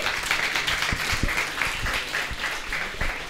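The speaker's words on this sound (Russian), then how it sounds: "Аплодисменты." A small crowd applauds with steady, moderately loud clapping throughout.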